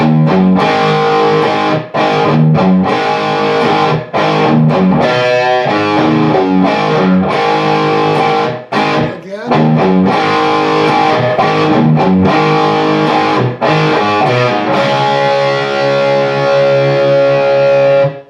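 Loud distorted electric guitar power chords played in a driving rhythm, with chord changes and brief stops between strums.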